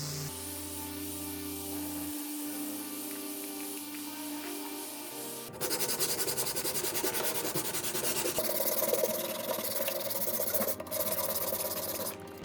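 Steady rasping of sandpaper being rubbed back and forth by hand over old stripped wood, continuous and close, getting rougher and louder partway through.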